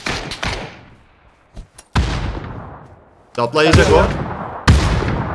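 A grenade is thrown and explodes in a PUBG ranked match, with sharp loud blasts and gunfire-like bangs echoing and decaying, while a player talks briefly in between.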